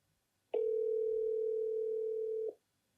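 A steady telephone dial tone from a regular phone call being placed after a video call dropped, starting abruptly and holding one unbroken pitch for about two seconds before cutting off, alone with no talk.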